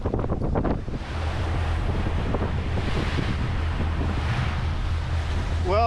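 Blustery wind buffets the microphone on a working boat on the grey River Dart, a constant loud roar with low rumbling gusts and water noise under it, a brief voice-like tone near the end.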